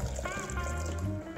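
Water is poured over strawberries in a blender jug for juice, a short, close gurgling trickle with faint tonal ringing.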